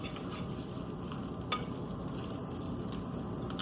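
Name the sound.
spatula scraping and folding muffin batter in a bowl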